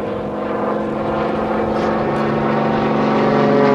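An aerobatic airplane flies an inside-outside figure eight at a 2005 Rhode Island Air National Guard open house airshow, its engine a steady, loud droning hum that holds throughout.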